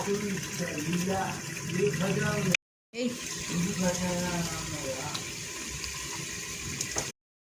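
Tamarind pulp poured into a cooking pan of tomato and onion, a steady liquid splashing and bubbling rush under a voice, broken by a short dropout partway through.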